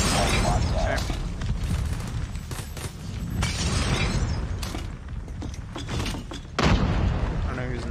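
Grenade blasts and gunfire in a first-person shooter match, with repeated loud booms and sharp cracks coming in bursts over several seconds under a constant roar of game sound.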